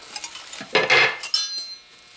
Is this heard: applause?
no